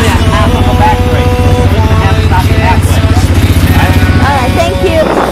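A motorcycle engine idles with a steady, close, rumbling putter on a Puerto Rico rental, while people talk over it.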